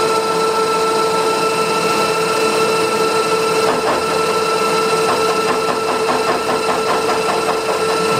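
An involute gear cutter shaves a spline into 4140 steel, making a steady, loud mechanical whir. A rapid rhythmic chatter of cutting joins it partway through.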